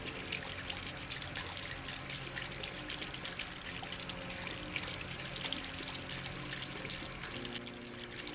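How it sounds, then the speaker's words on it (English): A paintbrush is rinsed in brush cleaner liquid during acrylic landscape painting, making a faint, steady trickling and swishing of liquid close by over a low background hum. "Okay, so what I'm doing is using my brush cleaner just to kind of go through it."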